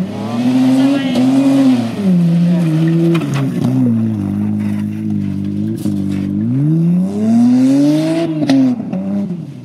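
A side-by-side off-road vehicle's engine revs up and down with shifting pitch like a manual transmission, loud and close, rising and falling through several throttle swells.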